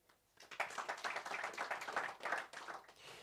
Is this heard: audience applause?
yes